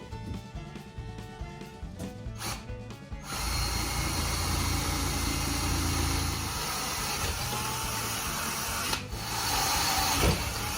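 A power drill with a quarter-inch bit whirs steadily after a few seconds of quieter mechanical noise, its motor droning continuously with a brief change near the end.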